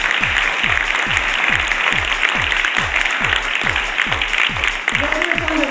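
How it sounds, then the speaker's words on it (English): A crowd at a charity gala applauds with steady, dense clapping, overlaid by a regular low thumping beat, with a brief voice near the end. "So everyone should please give her a applause."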